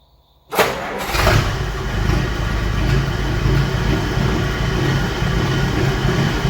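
A 1951 M37 truck engine, started with a little choke after sitting for weeks, cranks briefly after a moment of quiet, catches with a loud burst and settles into a steady, close, rumbling idle.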